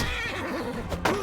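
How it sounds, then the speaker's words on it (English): A horse neighs after being stabbed during a joust in the video game Mount & Blade II Bannerlord, a loud close whinny with rising and falling pitch over a noisy background. "Why are you stabbing at my horse, man?"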